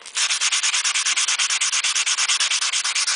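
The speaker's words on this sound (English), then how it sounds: "you're just sanding out all the file marks." Sandpaper rasps back and forth over stainless steel trim, sanding out file marks, in quick, even strokes, close and loud, with a steady scratchy rhythm and no voices.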